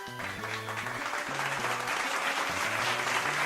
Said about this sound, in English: Where's the applause? There should be a rounding applause.